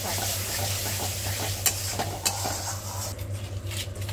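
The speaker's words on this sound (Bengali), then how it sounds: "মশলাটা একটু কষিয়ে নিই।" Spice paste with turmeric and salt stir-fried in a pan, a close, steady sizzle with scraping stirs and a couple of sharp clinks of a spoon against the pan.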